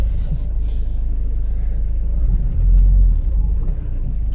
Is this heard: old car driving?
yes